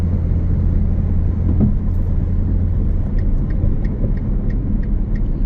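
2023 Ferrari Portofino on a road test, its engine giving a steady low rumble with constant road and tyre noise from inside the cabin, no talking.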